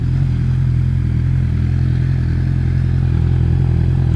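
An MV Agusta Brutale 1090RR with a full aero race exhaust idles in a steady, loud, deep rumble, holding an even throbbing note without revs rising or falling.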